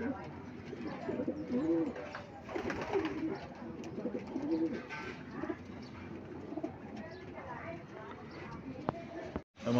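Racing pigeons cooing at the loft as they return from a summer race in Apalit, Pampanga, with soft coos and bird calls running throughout under a voice calling to the birds.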